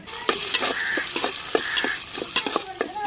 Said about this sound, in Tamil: வெங்காயம் தக்காளி வெள்ளைப்பூடு பச்சை மிளகாய் எண்ணெயில் நல்லா வதக்கி வச்சு